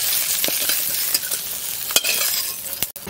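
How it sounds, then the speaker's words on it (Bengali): Food frying hard in hot oil in a pan in a village kitchen, a steady loud sizzle with occasional stirring scrapes and clicks, no voices. "ভালোভাবে ভেজে নিচ্ছি। এবার তুলে নেবো লাল করে"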